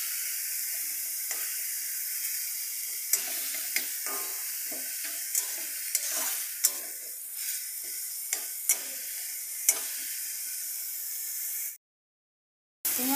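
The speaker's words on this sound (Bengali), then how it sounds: "পেঁয়াজটা একটু ভালো করে ভেজে নেব।" Onion paste frying in a pan while cooking a cauliflower, potato and bhetki fish dish, a steady close sizzle with sharp spatula scrapes and taps throughout, cutting to silence briefly near the end.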